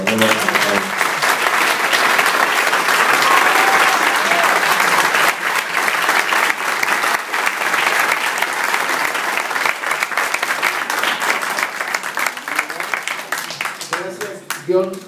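Sustained audience applause at a lecture on the historical tradition of electoral fraud, a dense, loud wash of clapping running nearly the whole time and tapering at the end, with talk surfacing briefly near the close.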